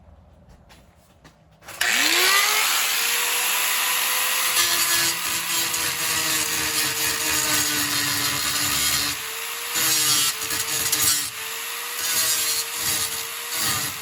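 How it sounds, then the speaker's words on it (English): A cutoff wheel grinds through spot welds on the rear body crossmember of a 1955 Buick Special, starting abruptly and running as a loud, steady, high-pitched metallic whine with slight pitch dips as the wheel loads up. "starting to grind the spot walls with the cutoff wheel like that"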